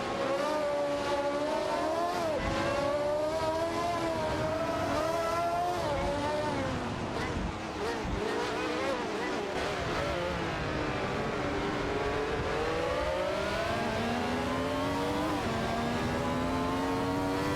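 Ferrari 312T race cars in an AI racing video game, several high-pitched engines revving and swooping through gear changes, loud and continuous with no break.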